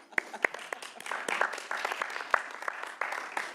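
A small group claps in a quiet hearing room, with a few sharp individual claps at the start building into brief, uneven applause that stays modest and close.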